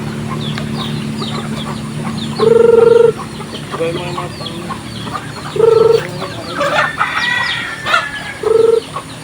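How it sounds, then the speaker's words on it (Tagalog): Hens and a small chick clucking by their netted pen, with loud, evenly spaced clucks and calls standing out over steady background chirping. "Ito po may maliit na sisiw po dito na hindi makapasok at hindi po alam ang daan."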